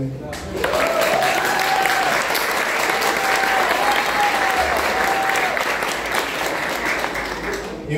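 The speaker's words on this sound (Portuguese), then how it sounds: "Salve de palmas para o Rubinho aí" A church congregation applauds for Rubinho after a baptism service, loud sustained clapping with crowd noise, and a sung or held voice tone running faintly under it in the first half.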